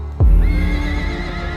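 A horse in a film battle scene lets out a loud, sudden whinny that rings out and trails off over a low rumbling background.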